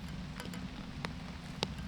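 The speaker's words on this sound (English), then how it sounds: "As you can see, the rain picking up." Rain falls steadily during a women's elite disc golf round at the Swedish Open, a soft continuous patter with a few sharper drops tapping nearby, heard alone without talk.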